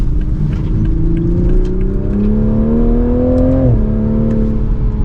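A 2024 Toyota GR Supra 3.0 Premium accelerating hard up a steep hill, its engine note climbing steadily in pitch for several seconds before a brief dip at a gear change, loud and continuous with no talking.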